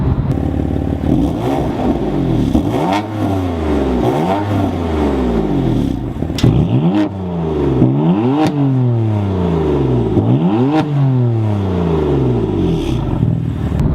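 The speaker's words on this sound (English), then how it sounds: "gives a more aggressive tone to the exhaust" A BMW M4 engine revs hard repeatedly in sport mode, the exhaust rising and falling in pitch with each push of the throttle, loud and close.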